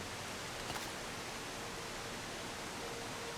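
A waterfall rushing in the survival game The Long Dark, a steady broadband roar of falling water heard alone and fairly quiet, unchanging across the moment.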